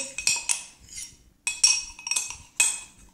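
A metal spoon stirs baking powder in a glass for pancake batter, giving bright repeated clinks in quick uneven bursts, close and clear, with short pauses between strokes.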